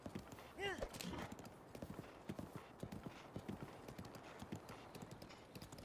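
Horse hooves clip-clop in Zelda: Breath of the Wild, a quiet rhythmic trot with a brief whinny near the start, under a player's voice talking.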